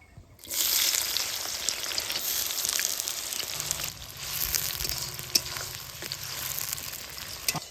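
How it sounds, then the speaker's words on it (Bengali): Chopped onions with bay leaf fry in hot mustard oil in a heated kadai, a loud, steady close sizzle that bursts in and then crackles on with slight dips and faint stirring. "পেঁয়াজগুলা বেশ লাল লাল করে ভাজি নিব।"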